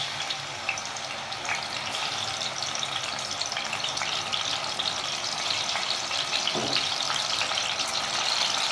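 Tomato halves fry in hot oil in a pan, a constant close crackling sizzle with scattered pops and a faint watery undertone, no voices.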